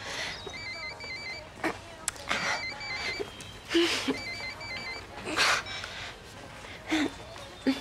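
Telephone ringing in a French animated series, a bright repeated electronic ring in several bursts over music and effects, with brief gasps.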